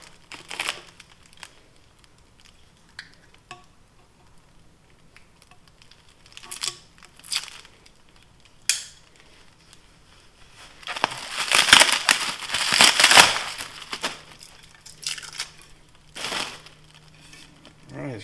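Heavily taped cardboard packaging being cut and torn away from a Council Tool 28-inch boy's axe, with bursts of crinkling, ripping tape and crushing cardboard, loudest in a dense stretch near the middle, with short pauses between.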